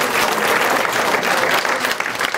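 Dense, steady applause from a church congregation honoring a retired captain, many hands clapping together at close range without a break, with faint crowd murmur beneath.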